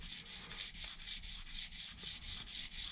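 A putty knife scraper edge is honed sharp with steady back-and-forth rubbing strokes, about a dozen even passes in a quiet, close-up setting.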